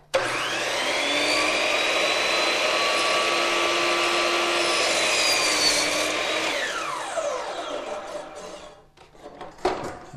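A miter saw trims a small piece off a baseboard: a loud, steady, close whine for about seven seconds, then the blade spins down, followed by a couple of faint knocks.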